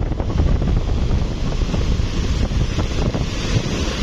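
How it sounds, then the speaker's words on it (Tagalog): Strong storm wind on a beach buffets the microphone in a continuous roar, with surf washing in beneath it; no one speaks. "Malakas ang hangin"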